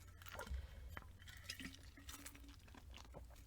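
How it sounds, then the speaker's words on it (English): A quiet, close liquid sound of drinking water with an ice cube in it, with faint splashes and drips. The sound runs steadily under a low background hiss. "Sorry, I had like an ice cube in my water,"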